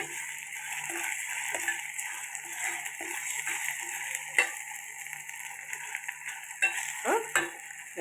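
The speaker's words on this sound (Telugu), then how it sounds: "కొద్దిగా పచ్చివాసన పోయేదాకా వేపుకోవాలి." Ginger garlic paste fries in a pan for a raw banana curry, making a steady low sizzle broken by scraping stirs and occasional louder clatters.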